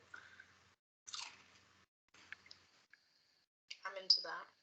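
Crunchy, salty biscuit like a very thick wheat cracker being bitten and chewed close up, a few crisp crunches in separate bursts with pauses between, the last burst loudest.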